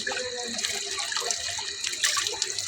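Water runs steadily while a large dirty tank is washed out, a continuous splashing, tap-like rush that stays fairly loud throughout with no talking.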